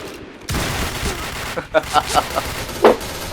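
A shotgun firing in the PB shooter game: a burst of rapid blasts, then a short series of separate booming shots and one final louder report, close and punchy, with a voice talking over it.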